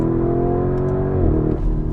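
A Lamborghini Urus SUV in Corsa mode accelerates with a loud, steady engine drone that climbs evenly, then shifts abruptly near the end, heard up close from the cabin with no talking.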